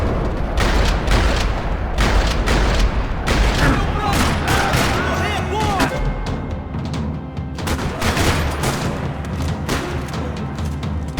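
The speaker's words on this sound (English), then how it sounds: "Another parking lot rattling with gunfire." Dense gunfire rattles across a parking lot in the video game Max Payne 3, loud bursts and booming shots overlapping continuously with brief lulls, voices shouting faintly in the mix.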